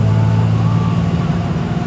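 A 2nd gen Dodge Ram truck on a bumpy road gives a loud, steady low engine and road rumble with a continuous rattling cabin drone.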